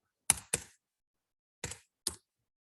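A clicky computer keyboard gives four sharp, isolated keystrokes, two quick ones and then a pause before two more, each crisp and close in otherwise silent surroundings.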